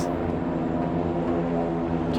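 In the video game Project Zomboid, a survivor helicopter event plays at night. A steady, droning engine hum with rotor-like pulsing carries evenly throughout, with no talk over it.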